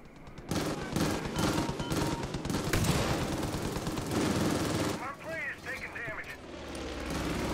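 Rapid machine gun fire from the Far Cry 5 video game in co-op play, dense bursts of loud gunfire nearly continuous throughout, with a brief lull mid-clip, mixed with game noise and a voice talking over it.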